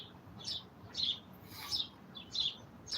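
Birds chirp outdoors in a run of five short, bright calls spaced roughly half a second apart, fairly distant over a quiet background with no voices.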